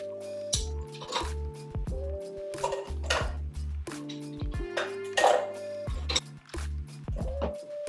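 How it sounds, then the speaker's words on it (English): Ice cubes are dropped into a metal cocktail shaker holding an egg-white drink, making a series of close, clattering clinks and thuds in uneven bursts with a musical backing underneath. "Now we're gonna add our ice."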